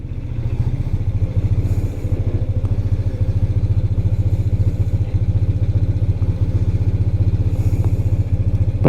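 A 1993 BMW R100GS motorcycle idles in neutral, its engine putting out a loud, steady, even throb close by.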